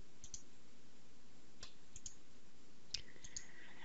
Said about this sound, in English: and then we'll click the Assign button.